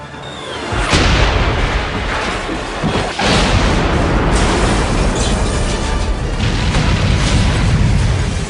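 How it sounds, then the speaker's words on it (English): Explosions from the James Bond film The World Is Not Enough set off with a sharp blast, followed by sustained loud roaring rumble and further bursts, a dense cinematic wall of booming debris and fire. "As always, plenty of explosions that Bond avoids"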